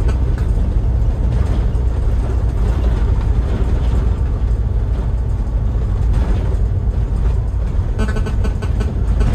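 Engine of an unloaded 2013 Toyota Hiace Commuter van in second gear, a steady low rumble that builds as it accelerates, heard from inside the cabin with continuous road noise and no talk.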